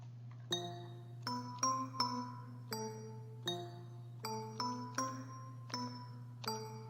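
A soft, airy synthesized bell preset from the Storch VST rings out in a series of separate notes, each with a bright attack, much high-frequency air and shimmering decay over a low steady hum.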